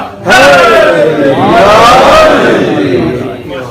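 A large crowd at a religious gathering roars a chanted slogan in unison with raised hands, a loud, swelling mass of voices lasting a few seconds before tapering off.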